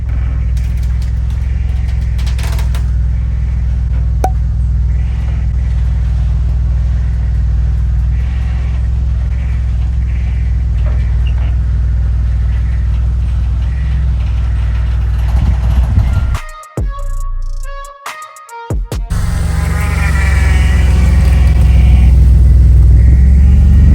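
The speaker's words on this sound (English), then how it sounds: "Can hear the car moving on the trailer without the bumper on" Scion tC with its front bumper removed moving on a trailer, a steady low rumble and rattling drone throughout, with a short choppy dropout near the end before the rumble returns louder.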